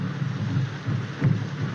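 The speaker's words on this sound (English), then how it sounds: "This rain and those drums." Steady rain pours in a 1932 film scene set during a downpour with distant native drums, a continuous hiss with a low rumbling swell near the end.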